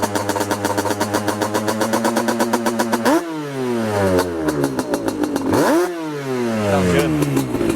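A Yamaha Banshee ATV engine idles with a fast, buzzy pulse, then revs up sharply twice. Each time the pitch climbs and falls back, loud and close.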